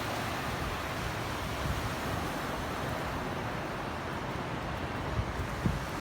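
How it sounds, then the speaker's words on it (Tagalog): Steady broadband wash of surf and waves with wind rumble, continuous and fairly even throughout, no voices. "Pero, still, di pa rin kalmado yung alon."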